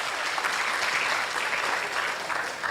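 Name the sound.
audience applause at PIMNAS mascot launch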